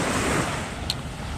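Ocean waves wash onto a beach in the Bahamas near a resort, a steady close roar of surf with some wind buffeting the microphone.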